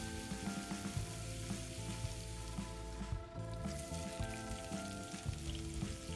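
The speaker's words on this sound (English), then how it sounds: "You can see the veggies are starting to cook a bit now" Vegetables sizzle steadily in a pan in a boat's galley, cooking for a chicken and veg rice bowl. The frying hiss runs continuous and close, with faint tonal hum underneath and no talking.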